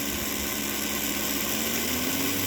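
A fan motor on an extra power supply pulsing so rapidly it blends into a near-steady hum, with a constant mechanical drone and a faint rising whine toward the end.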